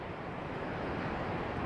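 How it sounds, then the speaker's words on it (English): Strong wind rushes through an outdoor garden as a tropical storm sits off the coast, a steady broadband roar buffeting the microphone with no talking. "It's very windy today."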